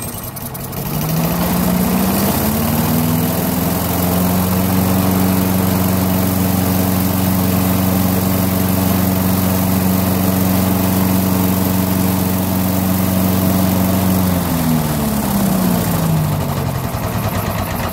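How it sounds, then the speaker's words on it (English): A Briggs & Stratton 6.75 small engine on a Craftsman chipper blower vac runs steadily after a drill start with a freshly cleaned carburetor, its loud, close drone holding constant before the revs drop off near the end. "What I'm going to do is just manually start it with a drill and make sure it runs."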